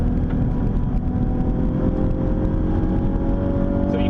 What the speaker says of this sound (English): So this car does have active rev match.